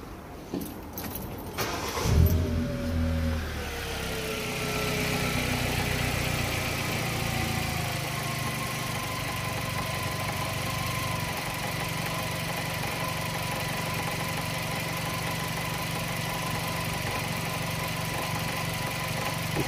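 A car engine catches after a short crank during a battery charging test, then settles into a steady, even idle that hums on without interruption.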